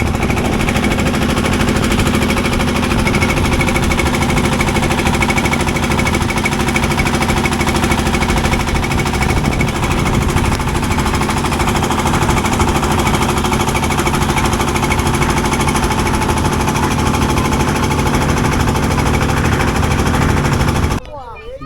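A motor boat engine chugs loud and close on the Meghna river, a rapid steady knocking throb that runs unbroken for the whole stretch before cutting off abruptly at the end.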